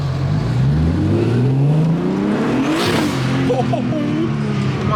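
Built, boosted BMW E36 making about 470 horsepower, revving hard on a dyno, its loud engine note climbing through rising sweeps, with excited voices calling out over it.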